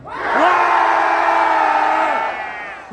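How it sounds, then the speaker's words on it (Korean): A crowd of men at a 2019 university festival concert in Ansan lets out one loud, sustained cheer that swells quickly and holds for about two seconds before fading. "그럼 안산에 있는 남자들만 소리 질러"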